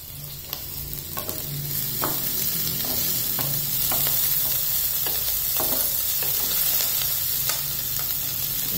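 Tempering seeds and onions sizzle in hot oil for bread upma, a steady close frying hiss broken by repeated scrapes and taps of a spoon stirring the pan.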